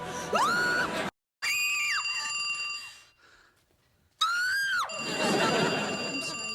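A woman lets out several shrill, piercing screams separated by abrupt silences, each rising and wavering before cutting off.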